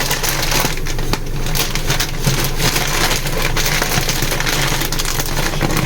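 Rain falling steadily during outdoor cooking of sautéed glass noodles, a loud, dense hiss of drops on surfaces that runs unbroken throughout, with no voices.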